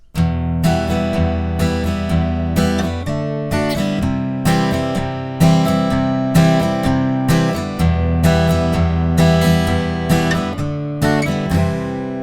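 A guitar strums the chorus chords of a song, steady full-bodied strokes ringing out one after another in a clear rhythm, loud and close with no voices.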